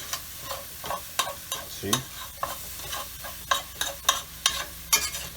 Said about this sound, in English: So like that, I'm just mixing it.